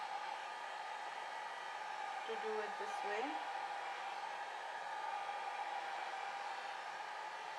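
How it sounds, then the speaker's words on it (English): A handheld hair dryer blows steadily on alcohol ink painted paper, a constant loud whooshing roar with a tonal whine, while a person briefly speaks over it. "And then just hold the dryer at one place."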